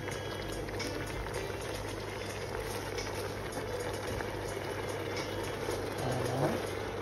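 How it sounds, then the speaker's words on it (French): A pot of water with vegetables boils steadily on a stove, a constant dense bubbling roar at close range that does not let up. A faint clink rises briefly near the end. "Je laisse de l'eau commencer à bouillir."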